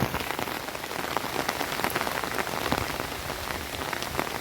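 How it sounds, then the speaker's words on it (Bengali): Heavy rain pours steadily, a dense, even hiss of drops drumming on surfaces with no pauses and no voices. "এত অতি ভারী বর্ষণে ভাসছে ঘরবাড়ি রাস্তাঘাট"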